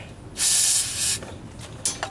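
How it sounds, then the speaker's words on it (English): Aerosol can of brake cleaner sprays in one long hissing burst, then two short puffs, close up in a garage while cleaning a Jeep Wrangler YJ transfer case. "So if you want to wipe the case down, take spray the brake cleaner"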